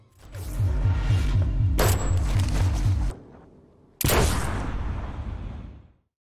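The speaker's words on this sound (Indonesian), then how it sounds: "Vic berusaha menembak Tom beberapa kali hingga akhirnya Tom pun terkena tembakan di bagian bahu." Gunshots in a film scene, a rapid burst of sharp repeated shots for about three seconds, then a pause and another loud blast that decays slowly.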